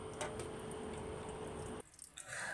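Cleaned goat intestines for kudal kuzhambu are rinsed in water, with continuous splashing and sloshing that stops abruptly, followed by a few soft drips and wet squelches.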